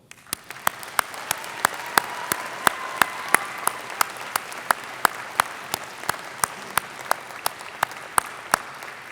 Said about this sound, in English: let's thank all of those who have made your convocation so special with a round of applause